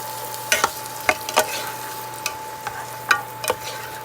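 Onions cook in a pan for a vegan green bean casserole, a soft low sizzle under a series of distinct spatula scrapes and knocks that come in irregular bursts, with a faint steady hum behind.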